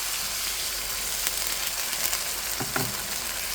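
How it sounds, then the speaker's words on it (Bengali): Spice paste sizzles in hot oil while being stirred, a faint steady hiss running throughout with a couple of soft scraping stirs near the end. "নেড়ে ছেড়ে ভালো করে একটু তেলের সাথে কষিয়ে নিলাম।"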